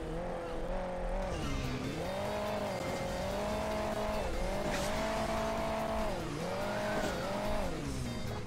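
Race car engine in the Hill Climb Racing 2 mobile game, revving in repeated rising-and-falling surges about every two to three seconds, loud and close, with brief tire squeal under the motor.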